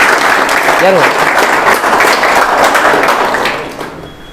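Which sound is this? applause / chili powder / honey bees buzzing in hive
applause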